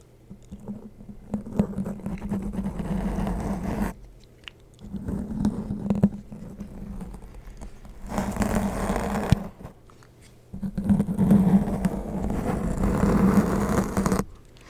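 Rough scratchy rustling of decorations rubs right against a microphone in several long bursts, separated by short pauses, loud and close.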